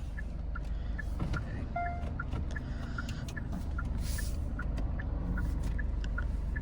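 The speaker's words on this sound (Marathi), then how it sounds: "चला आता आपण काढू गाडी" A vehicle idles with a low engine rumble as it is taken out, accompanied by a regular series of electronic beeps, likely reversing beeps, with a few faint clicks and a brief hiss in the middle.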